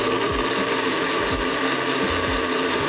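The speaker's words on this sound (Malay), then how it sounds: "Kita kisar dengan sedikit air sampai halus." A blender grinds boiled chilies with a little water, giving off a steady, loud, close-up whir that runs without a break from start to finish.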